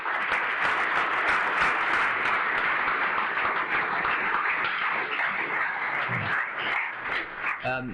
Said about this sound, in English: Let's all just give them a round of applause for a few minutes